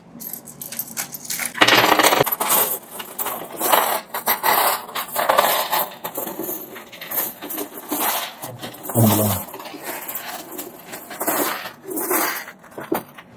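Sri Lankan 10-rupee coins pour out of a money box in a loud, sustained metallic clatter and jingle, with several surges of tumbling coins across the whole stretch.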